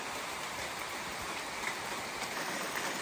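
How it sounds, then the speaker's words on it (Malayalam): Even, continuous hiss of steady rain falling nearby, with no other sounds. "അടുത്ത മഴയും സ്റ്റാർട്ട് ചെയ്തിട്ടുണ്ട് കേട്ടോ."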